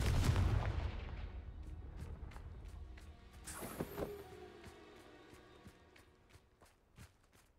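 Blasting-curse explosions from the Hogwarts Legacy video game: a heavy booming burst at the start, then a sharp blast around the middle followed by a string of lighter cracking impacts fading under a rumbling background.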